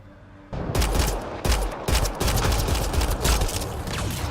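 Sustained rapid gunfire from a firefight in Mass Effect Andromeda, loud and close, with dense overlapping bursts and a couple of sharp breaks in the barrage over a low rumble.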